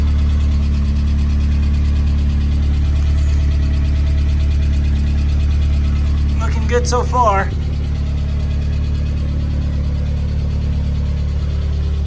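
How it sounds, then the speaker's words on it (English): A 1993 Asuna Sunfire engine idles steadily with a constant low hum, while a person speaks briefly over it midway. "Car started okay, running"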